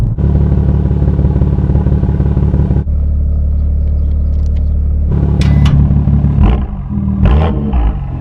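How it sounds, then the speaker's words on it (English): A 2018 BMW M2 in track mode: a loud, deep engine rumble idles steadily through a four-pipe exhaust, then a sharper exhaust note with rising revs and crackling bursts takes over near the end. "Pushing the track mode button opens a flap in the exhaust system"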